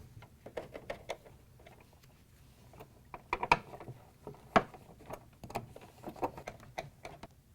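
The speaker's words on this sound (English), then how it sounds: "I'm going to put these 2 screws in right here first, and these will hold the auger assembly to the crusher." Small screws being driven into the auger assembly of a Whirlpool/KitchenAid/Maytag ice crusher, heard as faint, irregular ratcheting clicks and ticks close up, with no voice.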